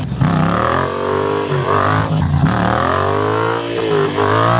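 A Yamaha Tracer 700 motorcycle engine revs loud and close, a steady high-pitched drone that climbs and dips in pitch with throttle changes over several seconds, with no talk.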